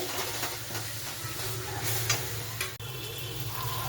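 Turmeric, cumin powder and salt frying in hot oil in a pan while being stirred, giving a steady close sizzle with scraping stir sounds and a sharp tap near the end.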